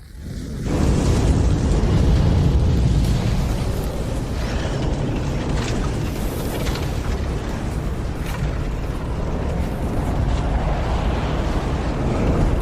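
A fire attack in a Sun Wukong video game: a sudden loud roaring burst that settles into a sustained, dense rush of flame lasting many seconds, with no speech over it.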